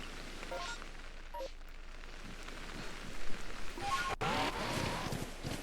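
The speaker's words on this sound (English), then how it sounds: "It's raining at least." Video game rain patters steadily across surfaces, a soft continuous hiss that swells near the end with a sharp crack and louder wash of sound.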